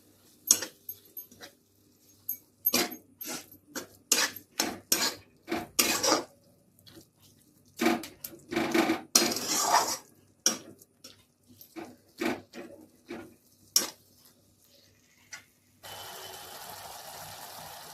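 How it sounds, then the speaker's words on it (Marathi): Methi masala with crushed peanuts is stirred in a pan with a spatula, giving a run of sharp scraping and clanking strokes, close and fairly loud, and then a steady sizzle takes over near the end. "याला 2 मिनिटं परतू द्यायचं आहे असं"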